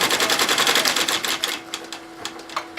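SWF embroidery machine stitching a laundry bag held in a Mighty Hoop, a rapid mechanical chatter of needle strikes that slows and thins out into sparse clicks over a steady hum, with no talk.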